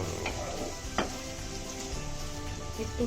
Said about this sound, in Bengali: একটু লাল পেঁয়াজ একটু ভাজা হয়ে আসছে এখন